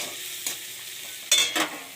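Onion sizzles gently in hot oil in a kadai as a spatula stirs it, with a couple of louder scraping strokes near the end over a steady low hiss.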